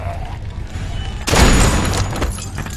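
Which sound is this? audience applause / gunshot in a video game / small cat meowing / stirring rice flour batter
gunshot in a video game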